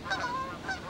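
Geese honking during a duck hunt, several calls in two brief bursts of honks, moderately close over a faint outdoor background.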